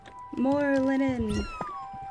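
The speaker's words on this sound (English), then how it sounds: "my cat had something to say about that" A cat meows once, a clear drawn-out, slightly wavering cry close by, with short thumps and faint background noise around it while a video game plays.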